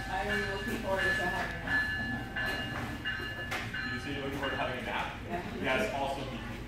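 A GO commuter train arriving between Kitchener and Toronto rumbles nearby with metallic squeals and hum, while people talk over it throughout.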